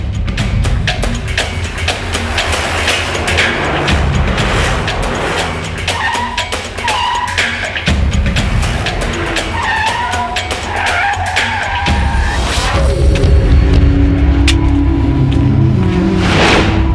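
A car speeding away with loud tire skids and screeches, the engine roaring through repeated squeals and whooshes over about seventeen seconds, close and intense, with no speech.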